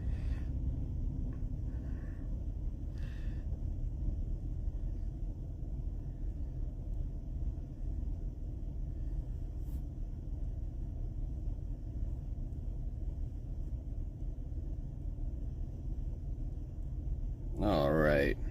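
Low, steady rumble inside a car while driving in a storm, a continuous road and engine drone filling the background, with faint voices over it and a brief sharp sound at the very end.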